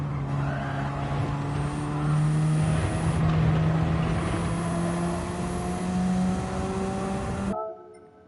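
A Radical race car engine holds a high, steady rev at Road Atlanta, a loud droning whine that runs continuously before cutting off abruptly near the end.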